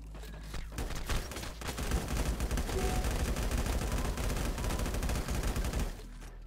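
Dense, rapid gunfire from the LifeAfter video game, with sustained automatic bursts and overlapping shots filling most of the stretch, loud and continuous before tapering off at the end.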